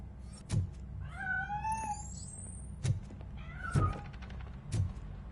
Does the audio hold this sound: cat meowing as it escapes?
yes